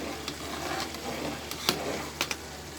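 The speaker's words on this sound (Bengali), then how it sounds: "ডালটা একটু নাড়া দিয়ে দিই।" Dal stirred in a cooking pot beside dried prawn and potato curry, a steady soft sizzle with a few brief scraping clicks of the spoon against the pot, close and even.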